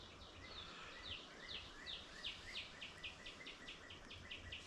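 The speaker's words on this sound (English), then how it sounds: "Can you hear the birds?" Birds chirp faintly outdoors in a quick series of short, high calls repeated at a fairly even pace over a soft, steady background hiss.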